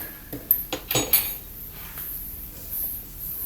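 A spoon clinks and scrapes against a bowl as Kerala vettu cake batter with baking soda and a pinch of salt is mixed, giving a few quick metallic knocks followed by quieter, softer stirring.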